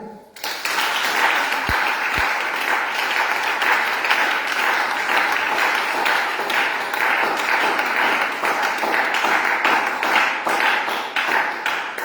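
A church congregation breaks into loud, sustained applause that rises quickly after a couple of sharp taps and holds as a dense, even roar of many clapping hands.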